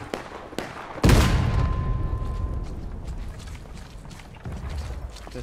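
An artillery cannon fires in the Civil War video game War of Rights: one sharp, heavy boom after a second, followed by a long rumbling roll of echo, with a few distant shots around it.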